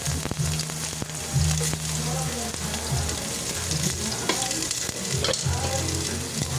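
Ginger, garlic and onion sizzle in a hot pan, a dense continuous crackle of frying aromatics with occasional stirring scrapes and a faint voice in the background.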